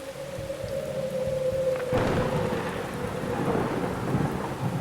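Steady rain pours down in a thunderstorm as a rolling clap of thunder breaks in partway through, then rumbles on beneath the constant hiss of falling water.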